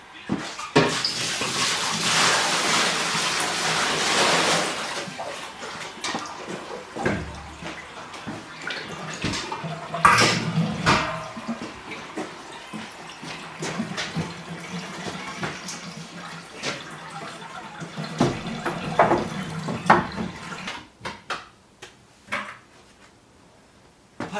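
Water runs from a tap into a basin during a farmhouse kitchen rinse, a loud steady rush for the first few seconds, then fainter splashing with clinks of dishes and small knocks.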